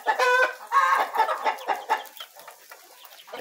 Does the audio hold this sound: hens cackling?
yes